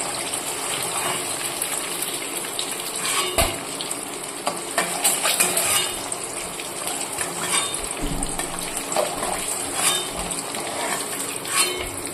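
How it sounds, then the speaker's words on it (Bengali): Duck eggs stirred and fried in hot oil in a pan, a steady bright sizzle with scraping and occasional clinks of a utensil, fairly close and without talk. "এবার এগুলোকে নেড়ে চেড়ে ভেজে তুলে নিচ্ছি।"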